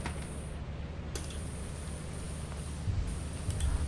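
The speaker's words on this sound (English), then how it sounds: "this is the sound of a giant." The giant monster in the video game Lethal Company makes a low, continuous rumbling drone with a faint high whine, steady and alone without speech.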